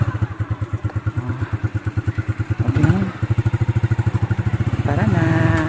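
Yamaha Mio scooter engine running while ridden, a steady close putter with rhythmic pulsing that rises in revs toward the end, with brief talk over it.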